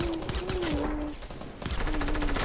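Gunfire from a video game fills the clip, a dense continuous burst of rapid shots with a brief lull midway before the firing resumes, loud and close, with no talking over it.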